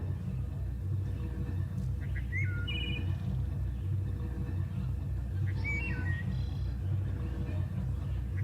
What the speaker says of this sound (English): I think it's a bird.